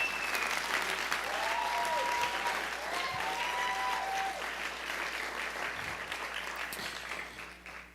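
An audience at an event at the Pershing Square Signature Center in New York applauds in a sustained, dense wash of clapping that slowly fades toward the end, with faint voices mixed in.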